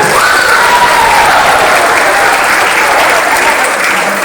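Loud, dense applause fills a school opening ceremony, a close and continuous wash of many hands clapping with light cheering mixed in.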